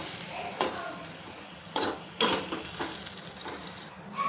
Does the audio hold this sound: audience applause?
no